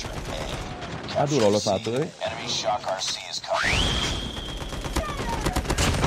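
Rapid gunfire bursts from COD Mobile play fill the scene with near, sustained shooting, including a Man-O-War rifle, broken by a short lull and a rising electronic sweep, while someone talks excitedly throughout.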